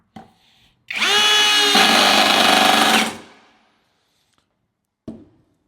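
A Ryoko cordless screwdriver set to speed 1 and torque 1 whirs up after a click, runs at a steady high-pitched whine for about two seconds, then winds down, followed by a short clunk.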